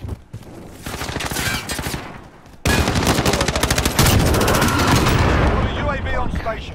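Rapid automatic gunfire from Call of Duty: Modern Warfare multiplayer, loud and dense bursts of cracking shots that continue almost without pause, with a brief lull before a heavier stretch of firing.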